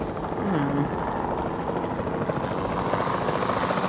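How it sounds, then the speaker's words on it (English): A capture team helicopter in Jurassic World Evolution 2 flies with a steady, close rotor drone and engine whine that holds evenly throughout. "the sensible thing is to take a capture team helicopter"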